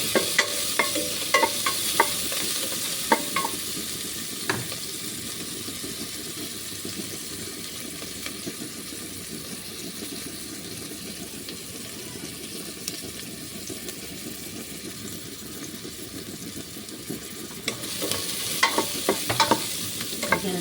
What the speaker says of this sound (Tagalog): Bigisa muna natin yung sibuyas